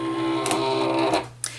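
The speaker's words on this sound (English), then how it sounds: "So I'm going to load this into my Cameo." A cutting mat fed into a Silhouette Cameo cutting machine, a steady motorized whir with a tonal hum and a couple of brief mechanical clicks as the mat is drawn in, close and moderately quiet.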